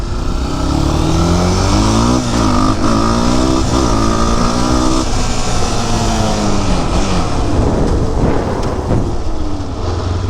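A modified Honda 400EX ATV engine pulls in first gear, revving loud and close with rising pitch sweeps and a constant rumble of wind and riding noise.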